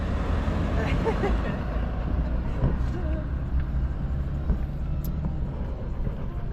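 Steady low road rumble from inside a car on a long drive back to a campground, continuous engine and tyre noise with no breaks, fairly loud and close.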